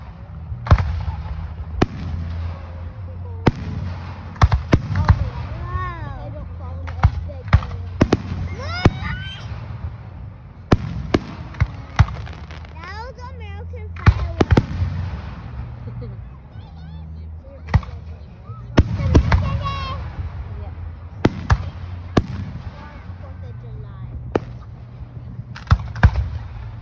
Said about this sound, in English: they just throw the best fireworks.